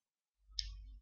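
A single soft computer mouse click sounds close and faint, followed by a short quiet tail.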